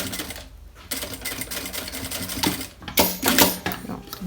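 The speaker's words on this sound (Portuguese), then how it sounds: "venho aqui e passo a costura aqui pra prender já essa primeira parte do TNT" A sewing machine stitches a seam through TNT non-woven fabric for a handmade wallet, a steady close mechanical whir with rapid needle clatter that speeds up and grows louder in bursts toward the end.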